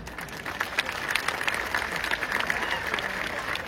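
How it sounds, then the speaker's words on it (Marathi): Audience applause at a Ramai Jayanti and constitution honour gathering, a moderate, somewhat distant patter of clapping hands with a faint voice underneath. "टाळ्या वाजवल्या तर जोरातच वाजवायच्या"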